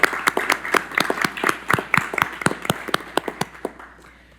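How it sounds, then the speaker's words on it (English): Crowd at a city council meeting giving a round of applause, a dense stretch of clapping that is steady and fairly close, tapering slightly toward the end. "let's give them a round of applause."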